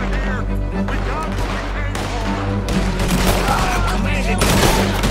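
Rapid bursts of gunfire during a Red Dead Redemption 2 shootout, crackling shots stacking into a dense fusillade over game noise, while someone talks over the action throughout.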